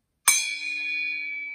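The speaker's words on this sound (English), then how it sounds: "That's more of a bell than a gong." A small gong picked up at a car boot sale is struck once, giving a sharp attack and then a bright, sustained bell-like ring that fades slowly, heard alone and close.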